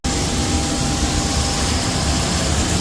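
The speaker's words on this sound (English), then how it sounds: "I really like this tractor." A tractor engine runs steadily while harvesting corn, a loud continuous drone with a rumbling low end and broad noise. It never pauses or changes over the whole stretch, and no one speaks.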